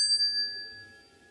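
A tapped hardened steel straight razor blade rings like a small bell, one clear, sustained metallic tone that decays slowly, close and fairly quiet.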